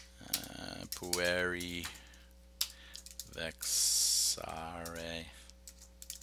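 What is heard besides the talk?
typing on a computer keyboard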